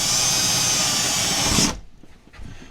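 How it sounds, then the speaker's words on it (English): A power drill boring a small hole through the wall of an off-grid cabin, a loud steady whine for under two seconds that cuts off abruptly, then quiet room noise. "going to try to do a small hole, and a small hole on this side, just big enough for the hoses to fit through."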